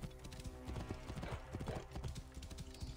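Horse hooves clip-clop steadily in Assassin's Creed Origins, a quick continuous rhythm of hoof strikes at close range over a dense game background, with no talk.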